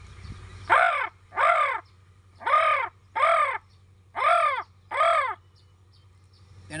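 A man imitates a crow with his voice, giving six loud, harsh caws in spaced pairs close to the listener, each call clear over a low steady hum.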